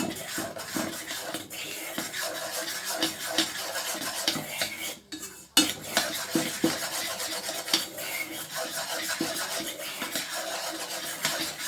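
Flour being stirred into melted butter in a pan makes rhythmic scraping and rubbing strokes against the metal, fairly close, with a brief pause midway.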